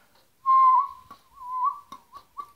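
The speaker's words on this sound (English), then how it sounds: "So if you're getting this sound, that's the pucker whistle." A pucker whistle made through rounded lips holds one clear, steady tone and then breaks into a few short chirped notes, close and alone with no talking.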